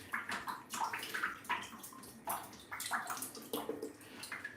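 Water splashing and dripping while a figure is wet sanded, with irregular bursts of wet spatter and trickling close by, a busy, uneven rhythm of small splashes with no talk over it.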